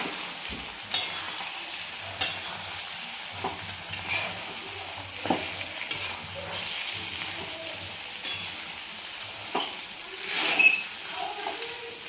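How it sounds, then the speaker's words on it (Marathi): A spatula stirs sabudana khichdi with fried peanuts in a pan, giving intermittent scraping strokes and light clinks over a quiet, low sizzle, close and fairly soft. "आणि हे जे आपण तळून घेतलेले शेंगदाणे होते ते पण टाकायचे आहेत, आणि छान मिक्स करून घ्यायचं आहे आता"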